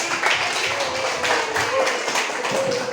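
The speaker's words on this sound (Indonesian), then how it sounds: "Mari kita berikan aplaus kepada kelompok 1" A classroom audience claps for a student group after their story presentation, a steady patter of many hands at fairly close range, continuous throughout.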